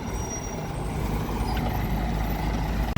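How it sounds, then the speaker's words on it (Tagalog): A city bus at a Sydney stop idles and rumbles close by, a steady low engine drone with a faint air-brake hiss, loud and continuous with no talk over it. "Bus."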